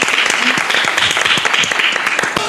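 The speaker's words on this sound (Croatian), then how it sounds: "Pozivimo ih jednim aplauzom." Studio audience on a talk show applauding to welcome a band, dense and loud clapping sustained across the whole stretch with a faint voice beneath.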